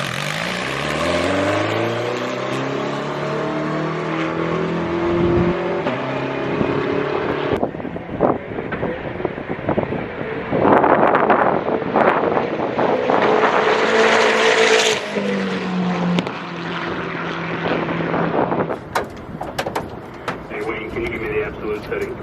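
BimmerWorld BMW E36 hill-climb race car with new aero testing at Pikes Peak International Raceway, engine revving hard through rising and falling gear changes with wind buffeting, loud and close, with voices over it.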